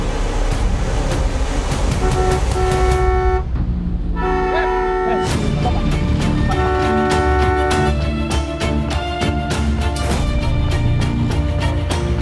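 Car horns blare repeatedly and insistently at a man standing in the middle of the road, loud sustained honks under a dramatic music score.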